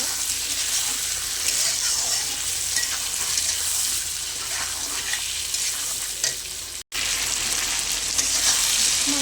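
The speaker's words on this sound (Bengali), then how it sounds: "দিয়ে দেবো টমেটা টমেটা আর আলু আর একটু ভালো করে কষে নেবো" Potatoes and tomatoes sizzle steadily in hot oil for fish curry, with continuous frying hiss and occasional stirring scrapes, loud and close throughout apart from one brief dropout.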